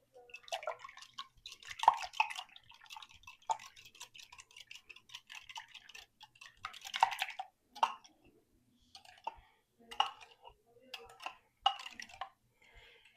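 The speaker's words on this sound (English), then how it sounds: "I'm just going to take my whisk and whisk all the eggs together." Eggs whisked in a bowl for baked banana oatmeal, giving fast, uneven bursts of clinking and ticking strokes against the bowl, fairly close and moderately loud, with short pauses between flurries.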